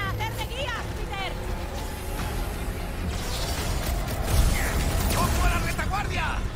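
A mechanical vacuum machine in the video game Guardians of the Galaxy whirs and rattles steadily throughout, mixed with busy game effects, with voices talking over it.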